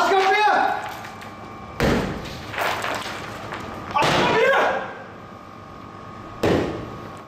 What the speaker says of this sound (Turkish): Kapı açılmayınca balyozda duvar kırıldı.